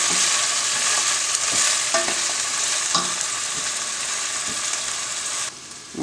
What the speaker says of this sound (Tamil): வெங்காயம் நல்லா வதங்கி